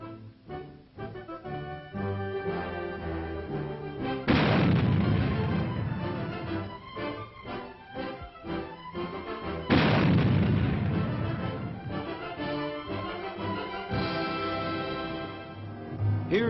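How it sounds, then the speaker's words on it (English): A new self-propelled 90mm gun fires twice, each shot a heavy booming blast with a long rumbling decay, set under an orchestral music bed. "This is the new self-propelled 90mm gun."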